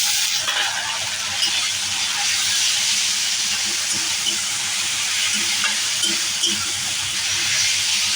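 Ginger-garlic paste and green chilli sizzling in hot oil with fried onions in a frying pan, a continuous bright hiss with faint stirring clicks, close and steady.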